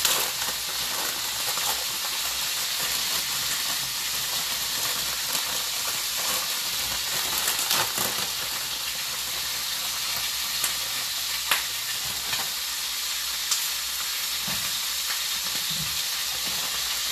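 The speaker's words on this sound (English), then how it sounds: "My water is a boiling." A steady broadband hiss and bubbling rumble of water boiling in a pot, continuous and fairly close, with a few faint clinks and no talking.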